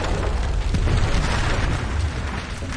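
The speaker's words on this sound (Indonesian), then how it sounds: "Ned Love menyuruh Bill Pickett meledakkan dinamit di uang yang dibawanya." A dynamite blast in the Western film The Harder They Fall, heard as a loud, dense, rumbling burst of broadband noise that stays heavy and sustained throughout without speech.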